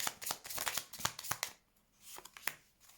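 Tarot cards being shuffled and turned over, in quick close papery riffles and snaps. A busy burst of shuffling comes first, followed by a few separate flicks.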